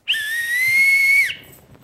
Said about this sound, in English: Use the whistle.